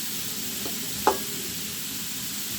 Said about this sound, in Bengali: আমি এখন ভাজিটা করতেছি